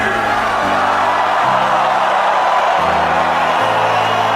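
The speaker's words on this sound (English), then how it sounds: "One last time, let me hear you scream!" A huge festival crowd at Tomorrowland screams and cheers over a driving electronic track, the roar loud and constant with bass notes shifting underneath.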